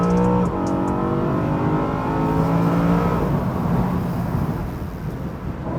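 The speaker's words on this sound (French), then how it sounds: "Il nous fait un petit travers là dans le virage ou pas là?" A BMW convertible's engine revs hard as the car slides sideways through a bend, a close, loud rising whine with stepped harmonics that fades into rushing road and wind noise.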